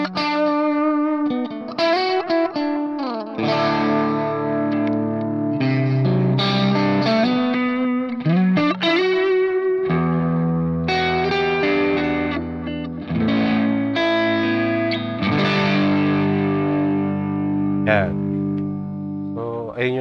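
Electric guitar played through a NUX MG30 multi-effects unit on a favorite preset with reverb on, loud chords and single-note runs ringing out with a distorted, effected tone and lingering tails, with no talk over it.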